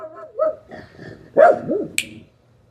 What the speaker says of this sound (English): We have a dog running around here.